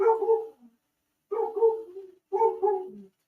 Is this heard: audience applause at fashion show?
no